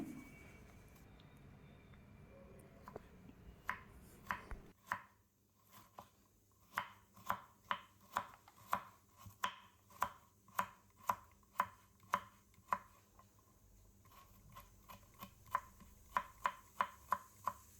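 Steady, rhythmic knife chops through coconut on a cutting board, a long run of sharp evenly spaced taps after a brief stretch of quieter handling noise.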